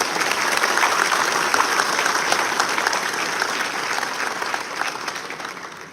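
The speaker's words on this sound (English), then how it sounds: "A huge round of applause for him." An audience at a university constitutional lecture series gives sustained applause for senior advocate Harish Salve, a dense, steady roar of many hands clapping that carries evenly throughout and tapers slightly at the end.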